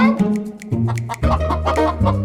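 An angry hen clucks in a farmyard in a children's tale about a hen and a brown dog, a loud, close run of agitated clucks and squawks in quick bursts.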